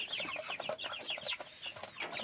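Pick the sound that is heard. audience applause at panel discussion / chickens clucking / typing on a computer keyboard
chickens clucking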